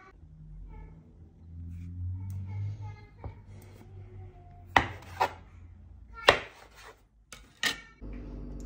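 Medium red onion being chopped with a knife on a board, a few sharp knocks spaced irregularly among quieter cutting and kitchen handling noises, close by.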